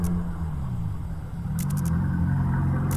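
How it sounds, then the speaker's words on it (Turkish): A car passing by in the video game Dead Signal, a low muffled engine rumble that holds steady and faint in the background, with a few brief clicks near the end. "Ha, araba geçiyor."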